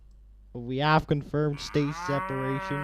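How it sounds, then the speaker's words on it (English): Cows low repeatedly near a rocket launch site, with several loud, drawn-out moos close by while someone speaks over them. "You can probably hear some cows moving in the background still,"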